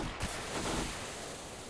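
A smoke grenade in Counter-Strike: Global Offensive gives off a steady, loud, broad hiss that fills the whole clip, with a faint thump near the start and no voices.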